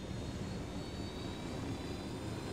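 A helicopter engine drones in the video game Ghost Recon Wildlands, a steady, loud, close whine and rumble with no talking over it.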